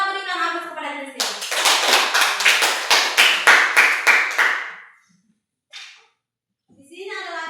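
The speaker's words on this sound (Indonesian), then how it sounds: "Kita berikan aplaus kepada Christian." A classroom of children applauds a student in a burst of about a dozen rhythmic, evenly spaced group claps, loud and close. Children's voices follow after a pause.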